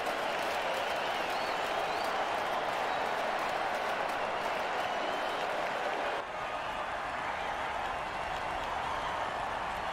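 A home crowd at a football game keeps up a steady, dense roar and applause from start to finish. It is loud and continuous and dips only slightly partway through.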